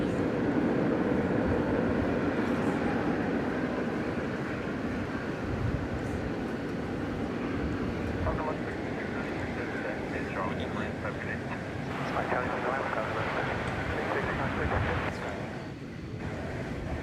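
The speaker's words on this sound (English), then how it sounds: "we will get to see Finnair taking off for Helsinki" A Finnair airliner taking off for Helsinki from DFW Airport, a broad rumbling engine roar under speech, with a faint intermittent radio-like voice in the second half before the sound thins out near the end.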